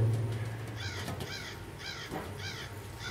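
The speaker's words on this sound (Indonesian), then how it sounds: "ada burung gagak" Repeated crow caws from the horror game Left Alone, four harsh calls spaced about a second apart over a low ambient drone, fairly close and clear with no talking.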